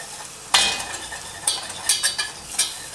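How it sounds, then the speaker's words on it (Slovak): Flour being stirred and toasted in a pan for a roux, with spoon scrapes and light clinks against the pan at irregular intervals over a soft background sizzle, close and fairly quiet. "Pekne si opražíme múku."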